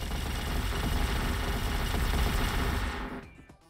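A Barrage of Light attack in the video game Blox Fruits, a dense, loud, continuous rattling burst like rapid-fire shots that runs for about three seconds before trailing off abruptly, with no talking.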